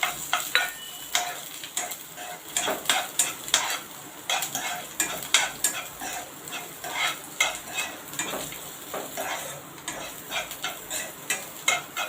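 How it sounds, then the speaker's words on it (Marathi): Chopped dry fruits frying lightly in ghee, a soft continuous sizzle broken by repeated scraping and clinking of a spoon stirring the pan at close range. "ड्रायफ्रूट जे मी चिर तो कटिंग करून ठेवलेले आहेत ते मी घालणार आहे आणि तुपामध्ये थोडे फ्राय करून घेणार आहे"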